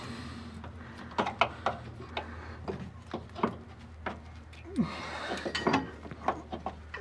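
Metallic ratcheting and clicking as a threaded adjuster is wound on a Holden HK idler arm, irregular clicks and scrapes over a low steady hum, close and moderately loud.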